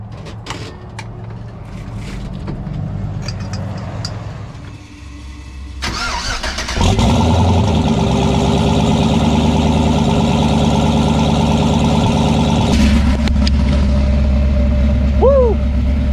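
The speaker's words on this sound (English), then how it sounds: "listen to the sweet, sweet sound of turbo LS motors" A turbocharged LS V8 engine cranks and fires up with a loud catch, then settles into a deep, rumbling idle that stays steady, with a brief mechanical clatter earlier.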